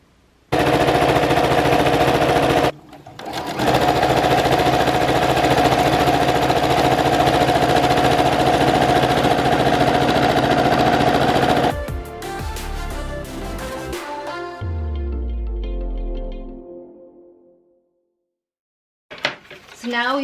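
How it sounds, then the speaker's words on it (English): Sewing machine stitching a layer onto silver ribbon for a tutu, a loud close rapid whir running steadily for about nine seconds after a brief start, then slowing and stopping before silence. "sew this layer on top of the silver ribbon."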